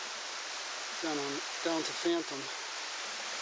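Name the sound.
Bright Angel Creek flowing water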